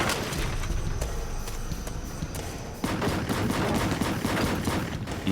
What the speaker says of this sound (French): Il y eut de nombreux coups de feu dans l'air.